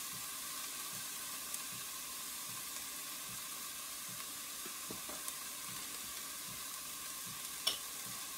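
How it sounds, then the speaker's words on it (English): Brisket beef stew seasoned with kosher salt and black pepper is stirred in a pot, with a steady sizzle and soft, regular scraping strokes and an occasional clink, heard fairly faintly and without talk. "Stir these up a little bit."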